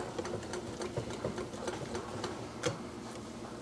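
Beer batter whisked in a bowl, a steady rapid rhythm of whisk strokes clicking against the bowl sides, close and moderately loud, with no talking.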